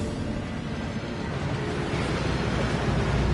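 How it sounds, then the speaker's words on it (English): A waterfall inside the Gringotts vaults in Hogwarts Legacy gives off a loud, steady rush of falling water, a broadband roar that holds unbroken throughout. "That waterfall washes away all enchantments."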